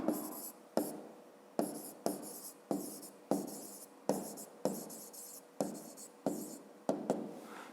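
A pen writes by hand on paper in about a dozen short, regular scratchy strokes, each starting with a tap, close and quiet with no talking.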